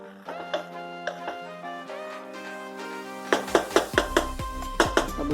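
A metal spoon scrapes and knocks against a pot while sweet corn rice pulao is stirred, with sharp close clinks in an irregular series that grow denser toward the end over a steady tonal hum.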